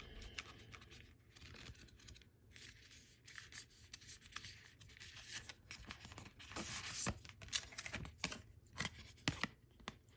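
Soft, steady riffling and rubbing of cards being shuffled, quiet and close, continuing for several seconds without speech.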